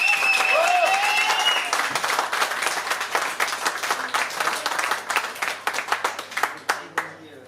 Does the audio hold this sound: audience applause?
yes